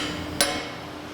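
A single light tap rings out as a split coupling is eased onto a shaft in a machine shop, a brief sharp knock over a steady background hum.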